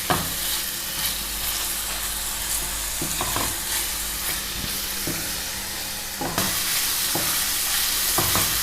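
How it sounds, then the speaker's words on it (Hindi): Onions fry together with potatoes in a hot pan, making a loud, dense sizzle. Occasional scraping stirs break the sizzle, and it grows louder after a spatula clatter near the end. Nobody talks. "अब इसमें प्याज डालेंगे, इसको 1 मिनट तक फ्राई करेंगे इसके साथ।"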